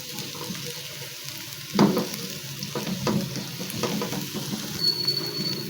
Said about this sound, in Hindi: 1 टेबलस्पून मैदा डाल के इसको भून लेंगे